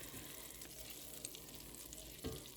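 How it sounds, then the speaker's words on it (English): Food melts in a hot pan while a spatula stirs it, giving a soft, continuous sizzle with a couple of brief scraping clicks, quiet and close. "melt that with the heat and stir that around with the spatula"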